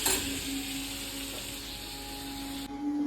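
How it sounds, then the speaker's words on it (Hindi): A tadka of spices for dal with bottle gourd sizzles steadily in a home kitchen, producing a soft, continuous hiss at moderate volume, with faint tonal hums from kitchen appliances running underneath. "दाल घिया में तड़का लगा लिया है"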